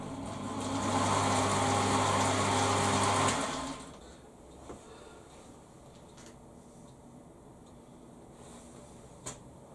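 An electric lathe motor on a workbench whirs steadily at high speed for a few seconds, then switches off and winds down, leaving near silence with faint clicks.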